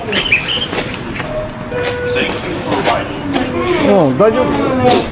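A train at a station in snowy Japan, its rumble and rail noise running throughout with a rising mechanical whine near the end, while people talk over it.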